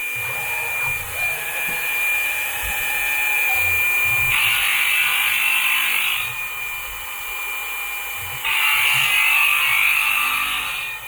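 CNC spindle runs steadily through a machining cycle on a Centroid Acorn controlled mill, a continuous motor whine with two louder bursts of high cutting noise, close and alone without talk.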